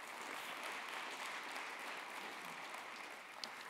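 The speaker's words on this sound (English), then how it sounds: "Let's give them a brief round of applause before we ask them to speak." Brief round of applause from the audience welcoming a panel at an academic debate on public and private debt, a faint, distant, even wash of clapping from a large room, no speech over it.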